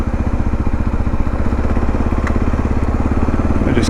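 A 2022 Kawasaki KLR650 motorcycle climbs a steep, narrow mountain road in first gear, its single-cylinder engine thumping loudly and steadily right at the microphone, with no voices.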